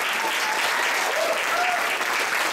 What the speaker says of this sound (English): But give a round of applause to Fuel for letting this happen tonight.